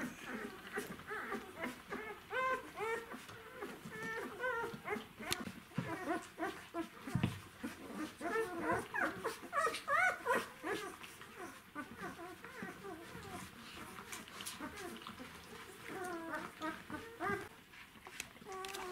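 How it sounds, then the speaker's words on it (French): Newborn puppies whimpering and squeaking while nursing from their mother in a nursery, a busy stream of high thin cries and mewls throughout, with a person speaking softly at times. "maman Horizon enchaîne directement par un nettoyage et une tétée"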